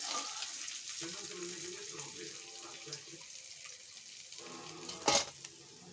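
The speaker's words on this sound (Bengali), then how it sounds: "মাছটা ভাজা হয়ে গেছে দেখুন তুলে নেবে এবার" Chanda fish frying in oil in a pan for a mustard fish curry, a constant close hiss and sizzle with a brief louder burst near the end, while a person talks quietly over it.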